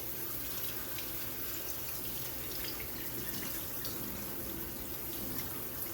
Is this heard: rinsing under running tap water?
yes